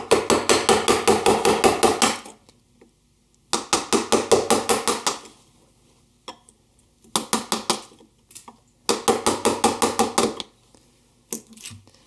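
Mallet blows on a chisel paring thin slices from a wooden half lap joint for a trestle table, struck in quick rhythmic bursts of about a dozen sharp knocks, then brief pauses, close and loud.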